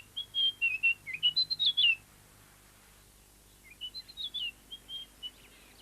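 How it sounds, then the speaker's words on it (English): A flappet lark displays on the Serengeti plains, giving two bursts of high, thin whistled chirps, a rapid run of notes for about two seconds, a pause, then a softer second phrase, clear and near over quiet background. "A flappet lark displays."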